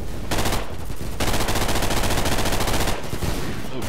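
Rapid gunfire from a marksman weapon in the shooter game Double Action: Boogaloo, loud sustained bursts of closely spaced shots with a couple of brief pauses, heard alone.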